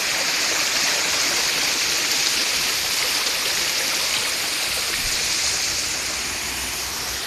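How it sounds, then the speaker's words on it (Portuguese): Rocky waterfalls of crystal-clear water rush down a descent. A loud, constant roar of falling and streaming water fills the scene without a break, and no voices are heard. "olha essa visão aqui dessas cachoeiras aqui"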